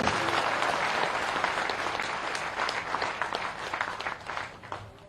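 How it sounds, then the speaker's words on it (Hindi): An audience at a political rally in Madhya Pradesh addressed by Shivraj Singh Chouhan breaks into loud, dense applause that rolls on steadily for several seconds before gradually thinning out. "मेरी बात से सहमत है तो जोरदार तालियां बजाइए।"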